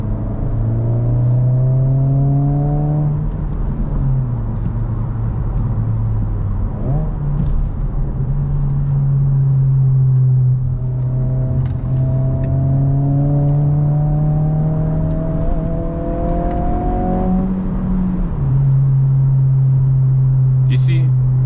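A loud Honda Civic Si pulls through third gear from inside the cabin, its engine droning and climbing in pitch in repeated long sweeps with brief dips between them, a rumbling, close sound that stays prominent throughout.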